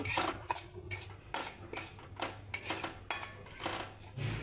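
Semolina (rava) roasting in ghee in a pan for traditional Diwali daraba, heard as repeated clinks and scrapes of a utensil against the pan in a steady rhythm, with a low hum underneath and no talking.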